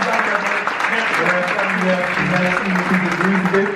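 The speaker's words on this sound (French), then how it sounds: "Encore une fois, d'applaudir à nouveau Monsieur Philippe Simot." Conference audience in Paris applauding steadily, a dense, continuous clapping from a crowd that holds at an even level throughout with no voices over it.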